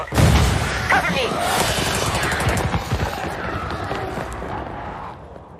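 Door breach explosion and gunfire in a Ubisoft video game: a loud boom opens into dense, rapid automatic gunfire that fades over several seconds, with voices shouting over the action.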